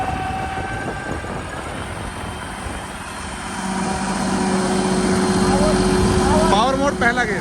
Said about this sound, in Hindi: दूसरे के लो में ट्रैक्टर चल रहा है, आप देख सकते हैं।